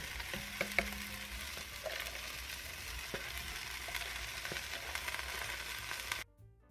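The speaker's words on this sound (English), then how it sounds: "to this I'm going to add in my ground beef" Ground beef frying in an oiled pan, a steady broadband sizzle with occasional stirring clicks and scrapes, running continuously before cutting off abruptly near the end.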